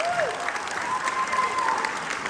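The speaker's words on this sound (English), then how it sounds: "how about a nice round of applause to both bands and all the great music from these students." An audience at a student jazz concert applauds steadily in a dense, even clatter of clapping, with a faint whistle rising over the crowd near the start.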